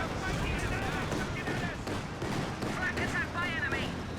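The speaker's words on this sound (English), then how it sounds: "Half-track with a Piat squad opening fire in the 222." A PIAT squad and a half-track firing on a 222 armored car in the World War II strategy game Company of Heroes 2, dense rattling gunfire and impacts in a steady battle din, with voices talking over it.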